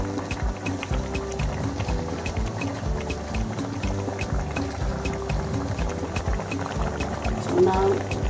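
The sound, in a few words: vegetables and sauce added to boiling Nigerian vegetable soup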